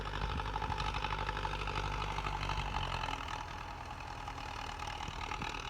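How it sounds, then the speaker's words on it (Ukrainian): An old MTZ-50 tractor engine runs in a steady, low, knocking rumble that holds level throughout and dips slightly partway through. "Зараз трошки познімаю, як працює МТЗ-50."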